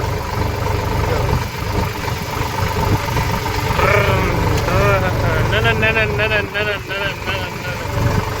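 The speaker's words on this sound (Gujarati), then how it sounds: "ટ્રેક્ટરનો અવાજ તમને નહીં સમજાતો હોય" A tractor engine runs steadily and loudly close by, a low continuous rumble, while people talk over it.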